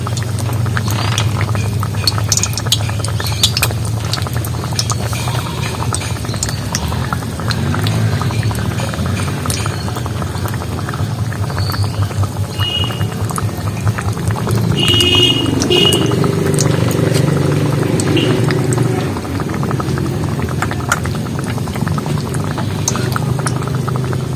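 Palm malpua fritters frying slowly in hot oil, with a continuous close bubbling and sizzling that swells slightly partway through, joined by occasional faint clinks.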